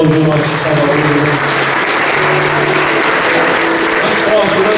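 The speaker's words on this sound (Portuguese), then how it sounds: "Vamos aplaudir o nosso Salvador." Church congregation clapping steadily during a worship service, continuous applause filling the space with voices and a sustained musical tone underneath.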